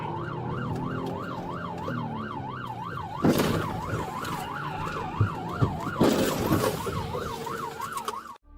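Police squad car siren during a pursuit, a wailing yelp cycling steadily throughout, with bursts of road and wind noise and a few thumps, loud and close with no talk.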